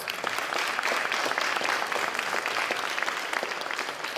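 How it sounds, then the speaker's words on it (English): A crowd applauds Dr. Maria Fossheim at a climate and fisheries talk, a steady, dense wash of clapping from many hands that holds evenly for several seconds. "Give her a big round of applause."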